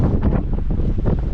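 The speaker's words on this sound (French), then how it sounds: "Bah toujours autant de vent." Strong mountain wind along the GR20 trail buffets the microphone in heavy, rumbling gusts that surge and ease in a loud, close roar over the brief span, with no voices.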